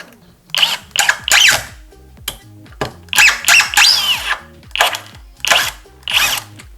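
A Worcraft CIS-S20LiB cordless impact wrench on low speed drives a 4.2x80 screw in short bursts, each a loud whirring rattle of rapid hammering, separated by brief pauses.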